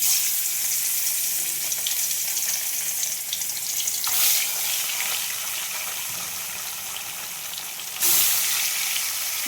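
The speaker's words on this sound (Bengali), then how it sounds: "মাছগুলো ভেজে নেব" Pieces of rohu fish fry in hot mustard oil with a steady, close hiss and sizzle, broken by a couple of brief louder spits.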